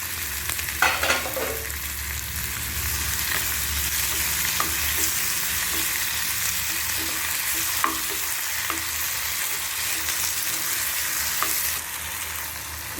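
Onions, tomato and tamarind frying in a pan for a street-style chutney, a continuous loud sizzle with occasional spatula scrapes and clinks, no voices.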